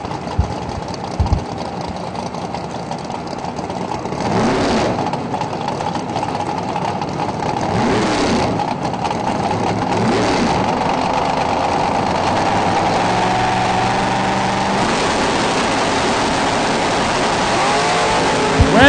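Drag race cars, a 1953 Corvette and a 2000 Chevy Camaro, roar loudly at the strip, engines idling and building into sustained revving and launch runs that drone on steadily throughout.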